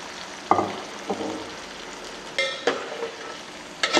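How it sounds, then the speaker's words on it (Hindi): Wild bitter gourds (karela) frying in a pan, a soft steady sizzle broken by a few sharp scraping stirs and clinks of a spoon against the pan, close and moderately loud with no talking. "अच्छे तरीके से इन्हें फ्राई करेंगे ताकि इनका जो कड़वापन है वो ख़त्म हो जाए।"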